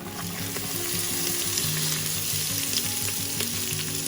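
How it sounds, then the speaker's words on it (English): Sliced onions sizzle in a hot pan for a dal chicken curry. The frying is a steady, continuous hiss with scattered small crackles and pops, and no one speaks. "Now to this I'm going to be adding half of the onions that I've cut earlier."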